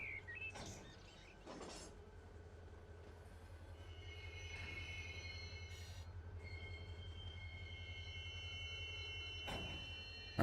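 Freight train rolling through a hump yard in Run 8 Train Simulator, a low steady rumble with high wheel squeals and occasional clanks, faint and continuous with no talk.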